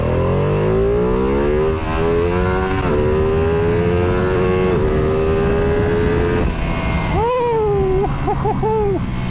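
A Ducati Panigale V2 motorcycle engine, loud and close, with a steady revving drone whose pitch slowly climbs and falls, then quick rising and dipping revs near the end, over continuous background noise.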